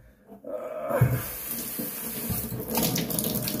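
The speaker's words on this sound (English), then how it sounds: "let me rinse that off" Tap water running into a sink while rinsing off after a shave, a steady close hissing splash that starts after a short quiet moment, with a brief dog bark mixed in.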